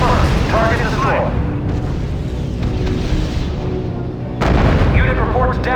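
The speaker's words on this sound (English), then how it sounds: "Open fire on designated target." Rumbling artillery barrages in the real-time strategy game R.U.S.E., with loud, dense booms and continuous low thunder throughout, swelling at the start and end, while radio-style unit voices report in the background.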